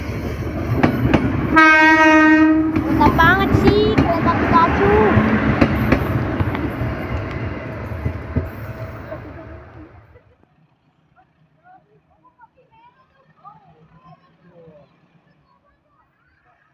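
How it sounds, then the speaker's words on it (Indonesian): A Pikachu-liveried train passes close by with a loud horn blast near the start and a rumbling rush of cars over the rails, fading out after about ten seconds; people talk excitedly over it. "Oh, kereta Pikachu coy."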